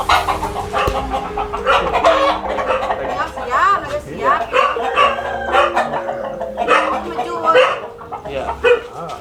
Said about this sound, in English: Oh, that's a nice chicken.